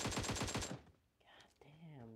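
Machine-gun fire in PUBG Mobile, a fast burst of about eight loud rhythmic shots, followed by someone speaking.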